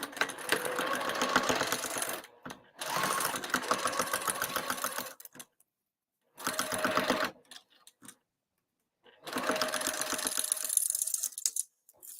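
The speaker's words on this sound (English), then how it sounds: "So I'm going to stitch this at 1/4 inch." A sewing machine stitching a quarter-inch seam at stitch length 3 on a cross-body bag lining runs in four close, steady mechanical whirring bursts, each a few seconds long, separated by short silent pauses.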